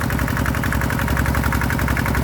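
Diesel engine of a long-reach excavator dredging an old pond runs hard and loud, a rapid steady throbbing chug that continues without pause.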